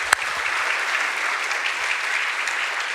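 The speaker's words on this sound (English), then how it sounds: "I think they need a big round of applause" A church congregation at a Sunday service breaks into warm, sustained applause, a thick, even wash of many people clapping that continues steadily throughout.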